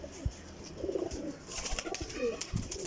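A champion flying pigeon cooing in soft low bursts amid rustling and faint background noise, with a few brief clicks and movements, close and moderately quiet.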